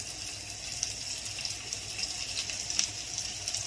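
Prawns shallow-fry in a pan of oil, giving a bright continuous sizzle scattered with small crackles and pops, close and fairly quiet, with no voices.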